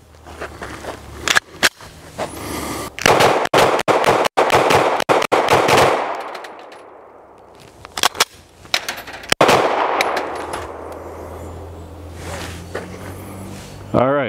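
A pistol fitted with a G-Flex trigger fires quick strings of loud, close shots in clustered bursts, with pauses and some handling noise between groups.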